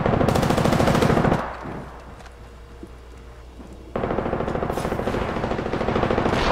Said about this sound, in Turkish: Sana mı sıkıyorlar oğlum böyle?